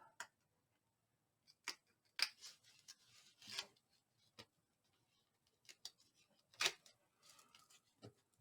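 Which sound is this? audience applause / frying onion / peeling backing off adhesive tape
peeling backing off adhesive tape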